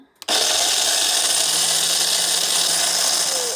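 An electric grain mill grinds wheat berries into flour, starting with a click and then holding a loud, steady, high whirring roar that runs unbroken to the end without any talk.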